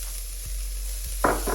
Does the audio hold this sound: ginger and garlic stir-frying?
yes